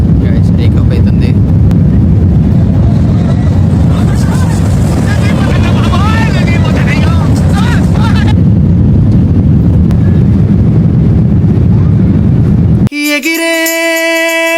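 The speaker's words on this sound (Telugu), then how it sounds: "టేకాఫ్ అవుతుంది." Airliner taking off on a flight to India, steady loud roar of engines and rushing air heard from inside the cabin for most of the stretch, with people talking over it before it cuts off abruptly near the end.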